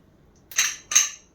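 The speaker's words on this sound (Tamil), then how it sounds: "சேர்த்து அப்படியே நம்ம குக்கரை மூடி வச்சிடலாம்." Two quick metallic clanks in close succession as a pressure cooker lid is set and locked in place, in an otherwise quiet room.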